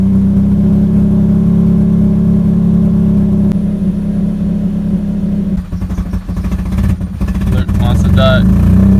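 A rough-running car engine, likely with a faulty crank sensor, idles loudly and steadily close by, then stumbles and surges unevenly toward the end.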